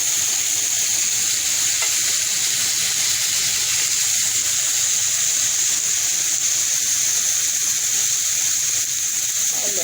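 Lamb ribs frying in a pan, a steady loud hiss and sizzle of hot fat that never lets up, close and alone without talk.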